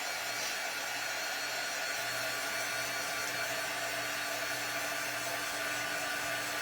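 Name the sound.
quick blow-dry with a dryer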